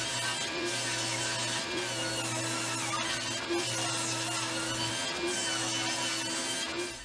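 A saw, either a miter saw or a table saw, runs steadily while cutting wooden workbench parts to rough size, a continuous loud motor whine with a low hum, briefly dipping where cuts begin and end.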